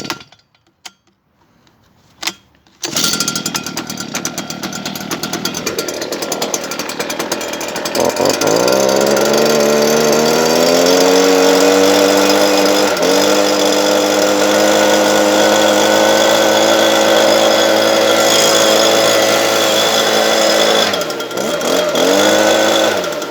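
A Stihl BG 86 leaf blower is pulled a few times, then sputters into life and settles into a loud, continuous high-pitched two-stroke whine, which rises as it revs up and stays steady before dipping briefly near the end.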